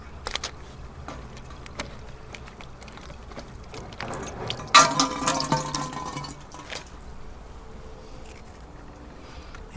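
Water running through the feed lines of a sluice gold recovery setup, a soft continuous flow with a louder splashing surge in the middle before settling back to a low trickle.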